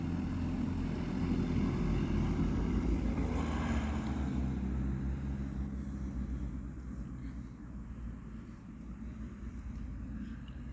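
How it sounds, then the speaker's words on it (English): A low, broad roar of an aircraft passing overhead, loud at first and then slowly fading into a steady distant rumble. "Or perhaps I hear an airplane sound."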